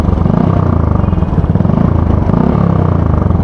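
Motorcycle exhaust from a Vegaforce FI fitted with an SC Project dual silencer, idling with a steady low throbbing rumble, loud and continuous with no talk over it.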